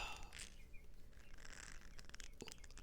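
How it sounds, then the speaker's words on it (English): Birds singing outdoors, heard faintly from inside a quiet room as a few brief, distant chirps and tweets over a soft background hiss. "I don't know if you guys can hear the birds outside."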